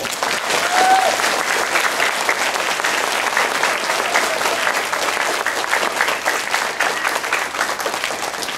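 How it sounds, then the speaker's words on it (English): An audience at a school memorial dedication ceremony applauds a committee with steady, sustained clapping from many hands, even in loudness throughout, with no voices over it. "Let's give the committee a round of applause."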